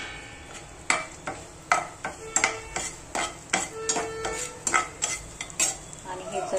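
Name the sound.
frying in oil in a pan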